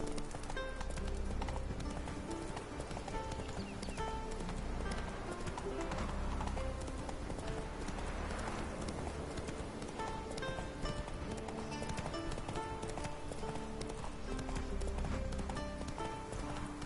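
Roach the horse gallops in The Witcher 3, a fast, steady clip-clop of hooves over game music and ambience, continuous and fairly close.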